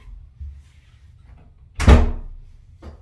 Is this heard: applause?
no